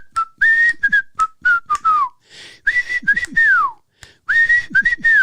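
Someone whistles a bouncy tune in short, clear phrases with brief pauses, close by and fairly loud.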